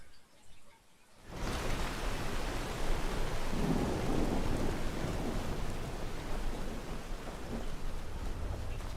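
Heavy rain and rolling thunder fill a Skyrim game world, starting suddenly after a brief quiet moment and then holding as a dense, steady roar of downpour with low rumbles underneath.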